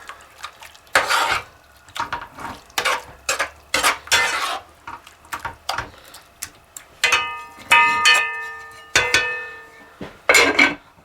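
Lime juice is stirred into shredded chicken in a pan, giving repeated scraping and clinking strokes of a utensil against cookware in an irregular rhythm. Faint sizzling and a few short metallic rings come through between the strokes, with no voice.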